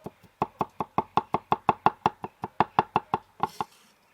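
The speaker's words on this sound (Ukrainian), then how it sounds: "Часничок нарізаю дрібно." Rapid, even knife chops through garlic on a cutting board, about five per second, close and crisp, ending with a couple of scraping taps.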